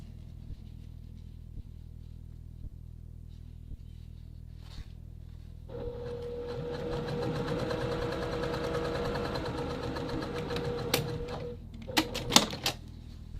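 A sewing machine stitches the shoulder seams of a men's classic vest lining with a 1/2-inch seam allowance, starting after a quiet pause as a steady, fairly loud mechanical whir, followed by a few sharp clicks near the end.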